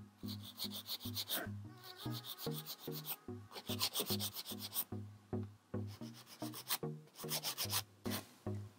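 A fine, gentle nail file rasps across a fingernail near the cuticle while old nail product comes off, giving close, steady rhythmic back-and-forth strokes with short pauses between runs.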